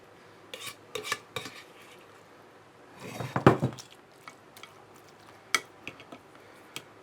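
Spoon scraping leftover cooked beef from a pan into a dish for cottage pie, scattered metallic clinks and taps with a louder burst of scraping in the middle, close, no talking.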